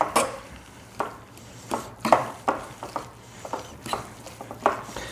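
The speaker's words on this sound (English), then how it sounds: "I'll mix this up with it" A spoon mixes salsa into shredded chicken filling for flautas in a bowl, making close, irregular clinks and scrapes against the bowl with no talking.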